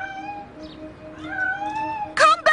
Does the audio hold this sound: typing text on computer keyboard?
no